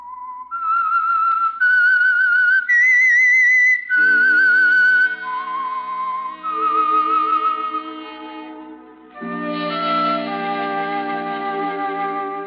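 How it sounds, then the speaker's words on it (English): A clear melodic whistle traces a short tune, the signature of the radio program The Whistler, rising and falling in sustained notes, with a low instrumental accompaniment joining partway through. "That whistle is your signal for the Signal Oil program"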